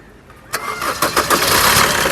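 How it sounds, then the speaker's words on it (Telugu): A 2019 Maruti Suzuki Brezza VDI diesel engine cranks and catches, then settles into a steady, loud idle with a rough diesel rumble. "ఒకసారి ఇంజన్ స్టార్ట్ చేసి చూపిస్తాను స్టార్ట్ చేయి"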